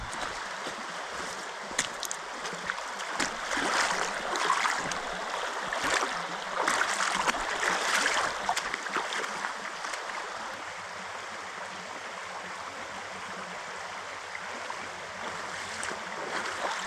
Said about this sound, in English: Let's walk across this brook and test out the boots